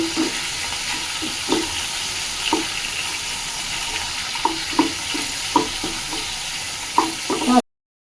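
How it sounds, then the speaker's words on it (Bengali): Continuous sizzling of a fish head, from boal fish, frying in hot oil, with occasional soft clinks and stirring taps, close and steady. "এবার আমি মাছের মুড়োটা ভালো করে ভেজে নিচ্ছি"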